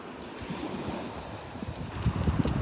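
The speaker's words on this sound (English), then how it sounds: "Come on, waves. Push everything around." Ocean waves washing onto the sand at Delnor-Wiggins beach, a steady broadband rush mixed with wind buffeting the microphone, swelling slightly louder toward the end with no voices.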